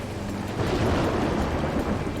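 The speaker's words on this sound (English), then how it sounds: "Freaking thunderstorm! This is the worst rain and weather we've had yet." A thunderstorm with heavy rain in the desert gives a dense, steady roar of rain with deep rumbling thunder swelling underneath, loud and continuous throughout.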